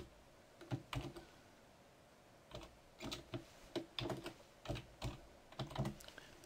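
Keys clatter on a computer keyboard in close, irregular bursts of quick strokes as a name is entered into a label-printing program, with quiet pauses between them.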